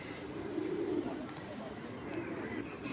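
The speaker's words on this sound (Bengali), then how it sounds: "মাত্র কবুতরটা পানি খাওয়াই আনছে" A racing pigeon coos softly in low, rolling murmurs just after drinking water, faint and a little distant against steady background hiss, with no talk.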